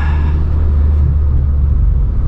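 Exhaust of a 9th generation Honda Civic Si cruising in third gear at light throttle around 2500 RPM, a steady, close, low droning rumble held evenly throughout with no voices.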